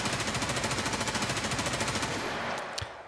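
Full-auto rifle fire in Escape from Tarkov: a rapid, evenly spaced burst of shots rings out loud and close for about two seconds, then cuts off, leaving brief faint clicks and tail noise.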